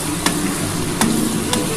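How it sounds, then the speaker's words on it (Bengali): Teasel gourd and potato fry in white oil with black cumin and green chilli, giving a steady close sizzle broken by three sharp spatula knocks about half a second apart. "এটা একটু লাল লাল করে ভাজা করছি।"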